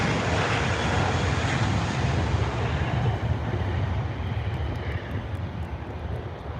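Etihad Boeing 777 jet engines spooling up at Heathrow, a loud, continuous broadband roar that holds steady throughout with a slight easing near the end, heard from nearby without any talking.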